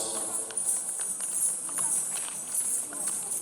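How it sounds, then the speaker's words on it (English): Several horses clip-clop at a Republic Day parade, their hoofbeats repeating fairly close and steady beneath a high whine and a voice over a loudspeaker. "You see all of you how these 4 horses by the Sky students are ready to give horse salute."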